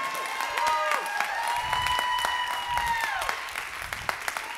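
A church congregation claps steadily through a worship service, with dense, sustained applause and occasional sharp individual claps, while sung or spoken voices carry over the top.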